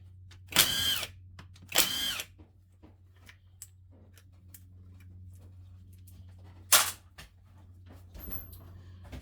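Power drill spinning out 3/8 bolts from the pan plate of a 4L60E automatic transmission, three short loud whirring bursts with quiet handling noises and faint clicks between them.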